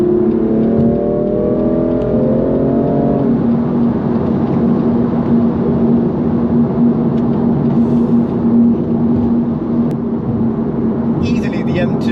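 BMW M2 Competition (F87) with manual gearbox downshifting to fourth and accelerating to overtake, a rising engine note that settles into a steady loud drone of interior road and engine noise, with a voice speaking over it.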